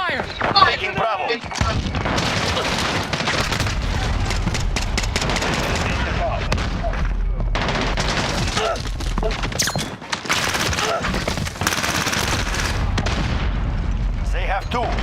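Gunfire and explosions in a tactical shooter video game, with dense bursts of shots and booms filling the whole stretch, mixed with game chatter and callouts over continuous battle noise.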